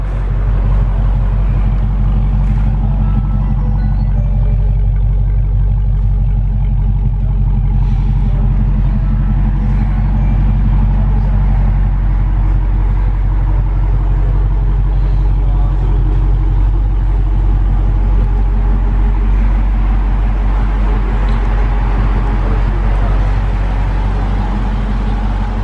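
A 2018 Dodge Charger Scat Pack with its 6.4-liter Hemi V8 idling, a loud, steady low rumble that holds throughout with slight swells and no talking.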